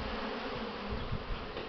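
Honey bees swarm around the hive entrance in a strong spring flight, producing a dense, continuous buzzing hum that is loud and close, with no voices.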